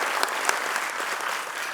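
An audience at a Siddharameshwara Jayanti community event in Belagavi breaks into lively applause, a dense, continuous clapping that stays loud for the whole stretch.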